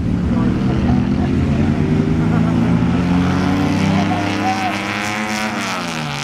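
A 1952 Chevy convertible engine running, a loud, steady low rumble that slowly eases off in the final seconds, with voices talking over it.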